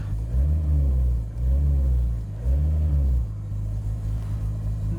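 A Nissan R32 pulls away after clutch repairs, its engine rumbling low and close, rising and falling through several revs before settling into a steady drone.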